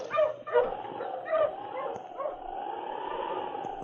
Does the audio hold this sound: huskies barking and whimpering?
yes